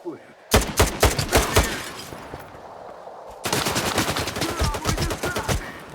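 Gunfire in Stalker 2 combat against human NPCs: rapid bursts of close, sharp shots in quick rhythmic volleys, a short lull, then another sustained burst of automatic fire.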